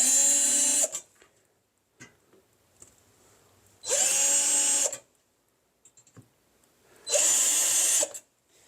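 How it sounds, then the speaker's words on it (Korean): A power drill bores holes in plywood for a compressor mount in three loud whining bursts of about a second each, separated by quiet gaps with faint handling clicks. "기존에 합판이 컴프레셔 위치가 잡혀 있으니까 이걸 그대로 위치 잡아 가지고 구멍을 뚫으면 될 것 같아요"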